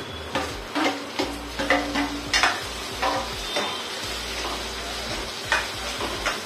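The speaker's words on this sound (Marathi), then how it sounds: "आता आपण टमाटर टाकू." Tomatoes stirred into onions frying in a pan for a spicy village-style sprouted moth bean curry, with a steady sizzle under repeated scraping strokes of a spoon, close up and without talk.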